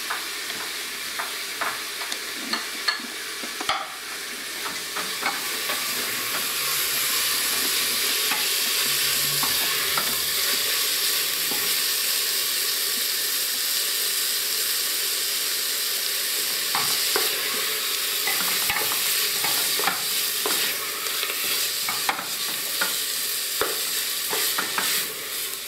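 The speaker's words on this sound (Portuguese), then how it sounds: "A cebola com a calabresa. Vou fritar tudo isso." Onion and calabresa sausage fry in a pan for a pumpkin broth, with a loud, continuous hiss of sizzling fat and occasional scrapes of stirring carrying on steadily throughout, with no talking.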